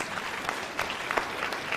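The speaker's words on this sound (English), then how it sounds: "a round of applause, please, ladies and gentlemen" An audience at an awards ceremony applauds, a steady spread of many hands clapping at moderate distance, fairly quiet, with a few sharper claps standing out.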